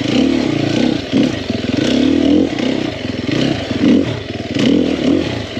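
A 2021 Sherco 300SEF four-stroke dirt bike engine revs up and down in repeated surges, loud and close, with mechanical clatter between the throttle blips.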